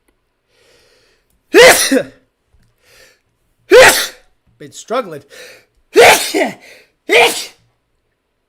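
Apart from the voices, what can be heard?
sneezing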